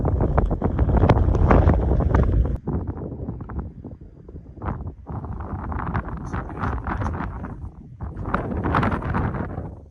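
Strong, cold wind roars and buffets the microphone in heavy gusts in the desert of Kofa National Wildlife Refuge, rising and dipping but never letting up.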